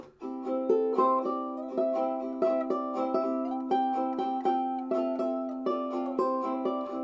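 Bright plucked ukulele notes play a lively melodic line over a sustained chordal backing, steady and close, with no talking.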